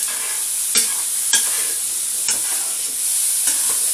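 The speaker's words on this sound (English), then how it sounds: "You might be able to hear it sizzling away." Continuous bright sizzle of vegetables frying in a pan, with occasional scraping stirs every second or so, close up and without talk.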